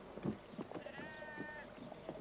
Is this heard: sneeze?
no